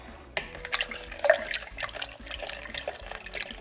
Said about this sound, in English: we're going to put another 1 cup of water again